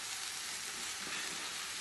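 Eggplant frying in a pan for a tomato sauce, a steady close hiss of sizzling oil with a faint stir partway through, no voices.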